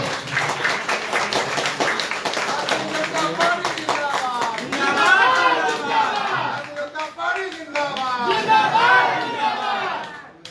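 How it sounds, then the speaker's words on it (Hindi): A crowd at a political party rally claps loudly and continuously, with dense rhythmic hand claps giving way to cheering and shouting voices in the second half. "जोरदार ताली से"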